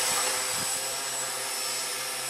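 Walkera QR X800 drone hovering at half throttle, a loud, steady broadband whir of spinning rotors that holds constant throughout, close by with no talking.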